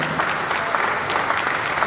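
An audience claps steadily at a university valedictory lecture to honour Professor Olubunmi Otubanjo, with dense, sustained applause filling the hall.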